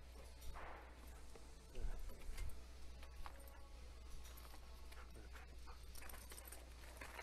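A dog in search training pants and whimpers faintly at close range, with a few snuffles and shuffling movements over a low background hum.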